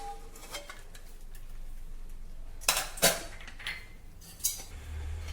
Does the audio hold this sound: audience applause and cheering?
no